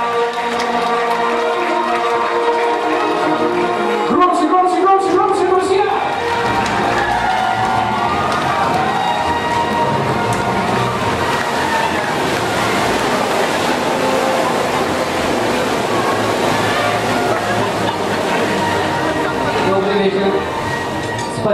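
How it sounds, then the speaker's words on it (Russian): Applause and cheering from an audience at a company's 20th anniversary celebration, a broad wash of clapping and crowd noise rising after a few seconds and filling the rest of the stretch, with music or voices mixed in. "Друзья, давайте поаплодируем, поприветствуем аплодисменты."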